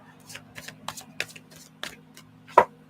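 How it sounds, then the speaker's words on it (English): Tarot cards shuffled during a live reading, giving a run of soft, quiet riffling flicks in irregular bursts with one sharper snap near the end, over a low steady hum. "My shuffling is relaxing, Danita."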